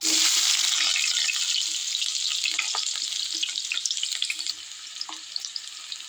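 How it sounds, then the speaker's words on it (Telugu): Chopped onions dropped into hot oil, giving a loud, steady hiss of close frying that fades a little over several seconds, with faint crackles and no talking. "ఆయిల్ వేడైన తర్వాత మనం ఇందాక కట్ చేసి పెట్టుకున్న ఆనియన్స్ వేసుకొని ఫ్రై చేసుకుందాం."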